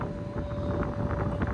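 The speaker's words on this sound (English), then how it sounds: "It's windy." Wind buffets the microphone outdoors at an EV charging stop beside a Polestar, a steady low roaring rumble with faint gusty swells throughout.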